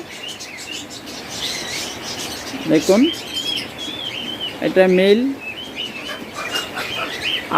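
Pet lovebirds and cockatiels chirp and whistle in bright, repeated calls close by, while someone speaks briefly over them.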